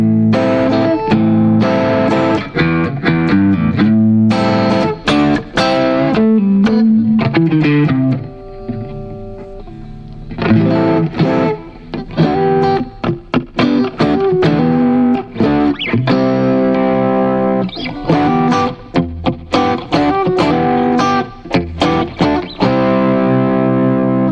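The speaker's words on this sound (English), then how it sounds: "So there's that bright reverb." Electric Stratocaster guitar played through a bright reverb preset with some distortion, strummed chords and single-note runs ringing out with a lingering wash, loud and continuous with a brief quieter pause.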